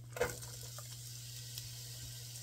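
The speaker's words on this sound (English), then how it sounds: "now we're going to add in 1 onion diced" Diced onion goes into melted butter in a pot over medium heat for white chicken lasagna soup, giving a soft, even sizzle with a small clatter near the start and a low hum underneath.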